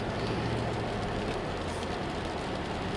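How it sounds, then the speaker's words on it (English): A light drizzle falls outdoors as a steady, dense hiss of fine drops pattering on surfaces, constant in level and with no talking. "I think we used to call it drizzle in England."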